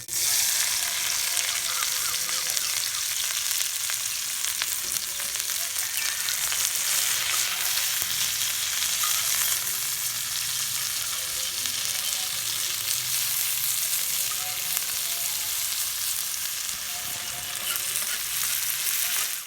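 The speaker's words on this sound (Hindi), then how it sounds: "प्याज़ों को हमने हल्का सा फ्राई कर लिया है" Onions fry on a flat iron tawa with a loud, dense, steady sizzle that runs unbroken the whole time, close and with no voices.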